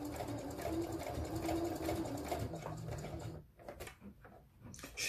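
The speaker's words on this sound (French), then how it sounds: "sur les surépaisseurs comme ça, je préfère coudre un peu plus lentement" A sewing machine stitches slowly through thick layers of fabric for a bag, a steady close mechanical whir and rattle that stops partway, leaving a few soft clicks and faint voices.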